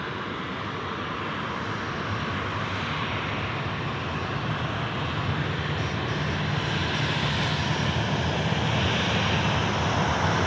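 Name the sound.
Qantas aircraft passing at Sydney Airport at night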